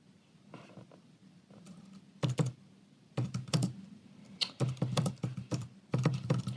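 Fingers type on a computer keyboard close by in uneven bursts of sharp key clicks and clacks, with short pauses between runs and no voices.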